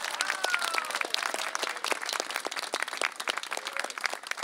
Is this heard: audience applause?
yes